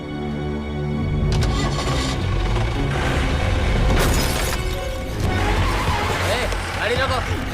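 A Tamil Nadu jeep speeding off and skidding, loud engine roar, tire noise and crashing impacts up close, with shouting voices over it.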